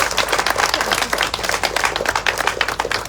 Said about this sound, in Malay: Satu tepukan kepada lembaga